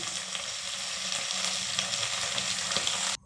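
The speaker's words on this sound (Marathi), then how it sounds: "एवढाच असा हा पालक आपण इथे तेलामध्ये फ्राय करून घेणार आहोत।" Spinach fries in hot oil in a pan with a steady, continuous close sizzle and light crackling that cuts off abruptly at the end.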